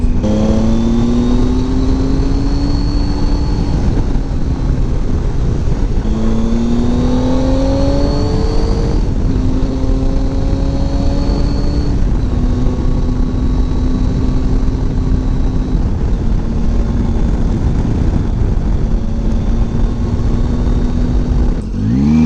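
A Triumph Tiger 800 XRT motorcycle engine under way on the road, loud and close, revving up through the gears in repeated rising pulls with brief dips between shifts.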